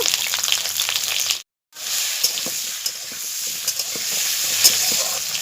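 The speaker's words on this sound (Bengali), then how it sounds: "আলুগুলোকে ভেজে নেব" Steady crackling sizzle of potatoes frying in hot mustard oil in a wok, broken by a brief silent gap and occasional scraping stirs.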